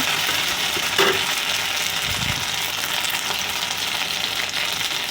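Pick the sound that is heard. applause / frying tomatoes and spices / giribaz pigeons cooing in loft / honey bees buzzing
frying tomatoes and spices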